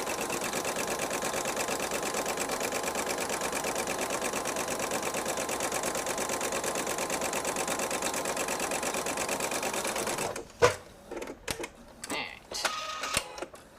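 A sewing machine runs a seam on a patriotic disappearing nine patch quilt, whirring steadily and evenly for about ten seconds before stopping, followed by a few faint handling clicks and rustles.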